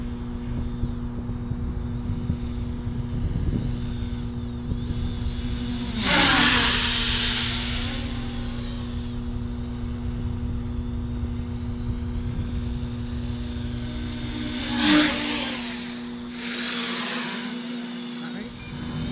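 Force1 F100 Ghost RC drone motors spinning at a low speed setting, a steady buzzing whine that holds throughout with a couple of louder swells, close by, while someone talks over it.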